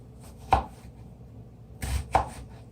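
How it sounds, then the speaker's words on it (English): A knife chops through an onion on a cutting board, giving three crisp, close thuds, one alone and then two in quick succession, with no talk. "This is how I cut an onion. I make little slices down here."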